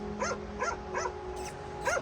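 Dogs bark in a short run of sharp, yappy barks at an open mountain hut at night on a remote Kashmir trek, four or five fairly close barks over a steady low hum.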